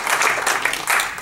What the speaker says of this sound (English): let's start by just a round of applause for all of our candidates for showing up today.